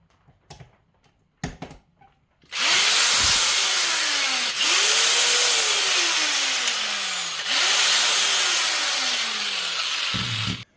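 After a few light clicks and taps, a power drill that has just been dropped whirs loudly up close in three long bursts, its pitch swooping down and up between pulls.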